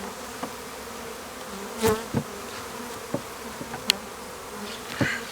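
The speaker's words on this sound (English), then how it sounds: "These bees are a little more feisty. Not happy about the situation." Agitated honey bees buzzing around a hive just after a package bee install, a soft continuous hum with individual bees zipping close past in brief louder passes.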